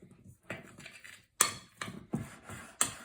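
A spoon works through a thick chocolate chip batter in a bowl, giving a series of close, scraping clinks against the side, about five distinct strokes in quick, uneven rhythm.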